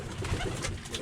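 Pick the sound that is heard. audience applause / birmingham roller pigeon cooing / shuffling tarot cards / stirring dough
birmingham roller pigeon cooing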